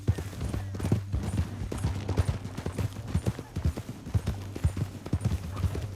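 Rapid clip-clop of hooves at a steady gallop in the video game Red Dead Redemption 2, close and continuous, with faint distant gunfire in the background.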